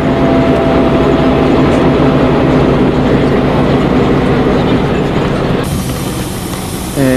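A bus drives through the Czech countryside in 1995, filling the air with a loud, constant roar of engine and road rumble and a faint steady whine. No one speaks.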